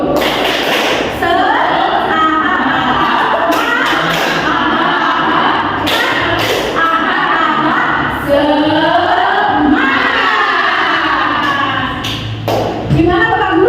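Teachers at a school training session perform a rhythmic clapping chant together, sharp claps punctuating loud group singing and voices throughout, close and energetic.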